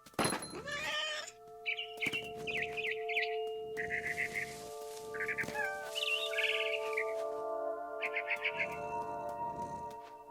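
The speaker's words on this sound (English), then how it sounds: "I heard chirping outside my window. It was a barn swallow going back to her nest." Barn swallow chirps in the video game What Remains of Edith Finch come as repeated short bird calls over a steady tonal game backdrop, with a few cat-like vocal sounds mixed in.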